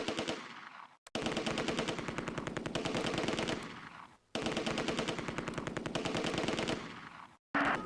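Sustained bursts of machine-gun and rifle fire from the Close Combat A Bridge Too Far war game, with dense rapid rattling volleys broken by two brief pauses, loud and continuous with no voices.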